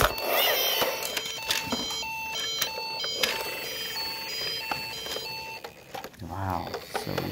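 A toy fire truck gives off a repeating electronic siren and beeping tune, steady and close, with a voice talking over it throughout.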